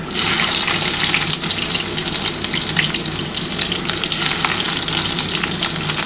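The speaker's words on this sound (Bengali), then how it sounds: "এবার যে তেলটা আছে সেই তেলটার মধ্যে দুটো তেজপাতা দিয়ে দিচ্ছি, দিয়ে এই পেঁয়াজটা দিয়ে দিলাম।" Onion slices and two bay leaves frying in hot oil for a mutton mince curry, a loud, steady sizzle and crackle throughout with a faint clink of stirring, no voices.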